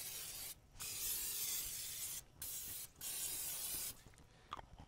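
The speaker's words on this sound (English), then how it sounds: "putting a coating of the PAM spray on the inside of the pot." PAM cooking spray hisses in three steady bursts inside a Dutch oven, each lasting about a second with short pauses between, followed by faint handling clatter at the end.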